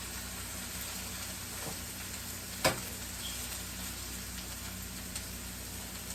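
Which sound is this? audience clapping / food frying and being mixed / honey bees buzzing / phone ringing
food frying and being mixed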